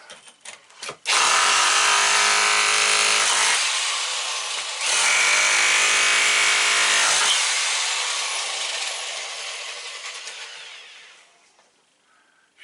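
A Power Plus rotary hammer drill with a chisel point breaks up material in two long, loud, close bursts of harsh hammering, the second tailing off gradually before stopping.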